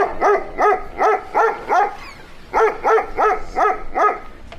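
A person imitates a dog, letting out a run of loud barks in an even rhythm, four, a short pause, then four more, alone with no other talk.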